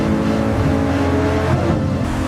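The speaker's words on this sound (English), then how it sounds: "Launch this thing, and the acceleration feels immediate and visceral." A Nissan Z Heritage Edition with a twin-turbo V6 and manual gearbox pulls hard off the line, its engine roaring steadily and loudly close by for the whole stretch, with no voices.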